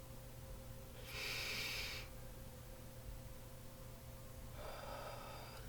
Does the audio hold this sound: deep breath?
yes